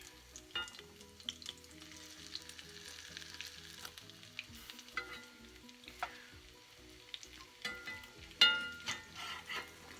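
Jack mackerel sizzling in a frying pan just after being flipped, a soft close crackle with scattered pops and a louder burst near the end, over a faint low hum.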